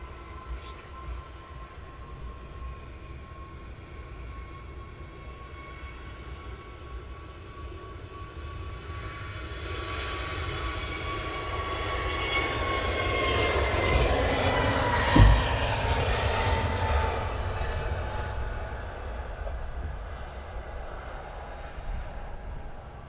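An EasyJet airliner departing Luton Airport on an early morning, its jet engine roar building steadily from a distance, swelling loud around the midpoint and then slowly fading, with no talk.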